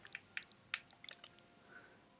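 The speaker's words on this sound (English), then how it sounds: "I type them in such a weird way because I try and speed run the typing process" Fast typing on a computer keyboard, quiet and close, with irregular clusters of light key clicks and short gaps between them.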